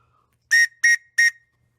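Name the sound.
Prussian police whistle blown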